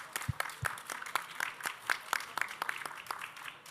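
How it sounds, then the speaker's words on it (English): An audience applauds a panel after a climate change and displacement discussion: a thin, fairly faint patter of scattered individual claps with a few sharper nearby hand claps, steady for a few seconds with no talking. "please join me in applauding our panel"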